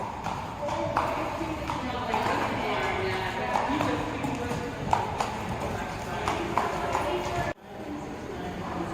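Horse hooves clip-clop in a steady rhythmic gait at moderate distance at an equestrian show, with people talking over them.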